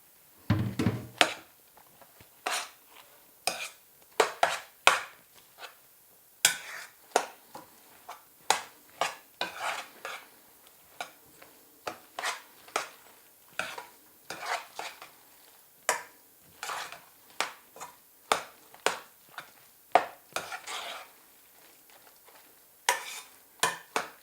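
Chinese cabbage being stirred and mashed into a pan, a long run of irregular close thunks and scrapes from a utensil against the pan, separated by short quiet gaps, with no talking.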